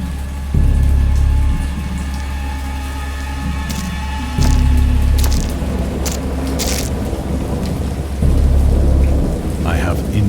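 A rainstorm with rolling thunder in the Dagon VR game, steady heavy rain hiss under several deep booming thunder swells that rise and fade, with a few sharp crackles.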